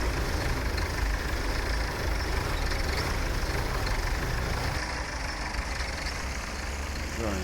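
A 1961 farm tractor idles steadily with a low, continuous diesel rumble, close and unchanging, with a slight shift in tone near the end.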